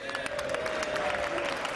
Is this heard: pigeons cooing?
no